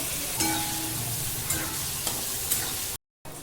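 Onions frying until brown for paneer gravy, a soft, steady sizzle with a few sharp stirring knocks, fairly quiet, cut by a brief dropout near the end.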